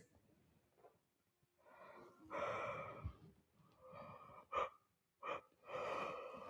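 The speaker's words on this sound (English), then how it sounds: "I have yawn that's coming up from the deep of my belly as I do this." A quiet, drawn-out yawn with breathy, groaning exhales and short intakes of breath, close and soft.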